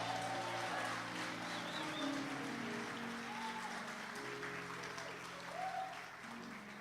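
A church congregation applauds during a sermon, a broad, sustained clatter of clapping that fills the room, with organ or keyboard tones held underneath and fading slightly toward the end.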